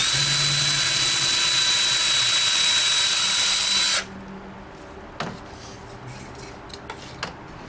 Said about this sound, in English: Drill a pilot hole into the center of the dowel.